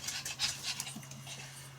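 A dog pants in quick, breathy rhythmic puffs close by, steady for under two seconds, with a low hum running underneath in an RV beach setting.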